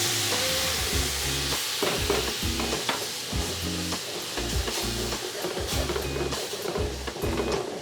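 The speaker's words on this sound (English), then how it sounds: "I'm going to add about half the wine at this point." Wine poured into a hot braising pan holding flour and tomato paste for beef short ribs, loud steady sizzling with repeated scraping and stirring strokes of a utensil against the pan.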